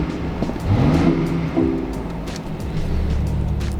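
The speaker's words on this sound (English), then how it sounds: "let's pop this door open and let's rev the car here." A BMW i8 engine revved while parked with the door open, a close, loud rising whir and growl that climbs, dips and surges again over a few seconds.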